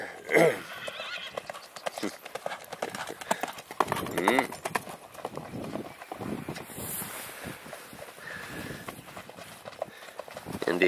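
Hooves clip-clop in an uneven trotting rhythm during a 50 km endurance horse ride, mixed with a horse's whinny and some wind noise, while a person talks quietly in the foreground.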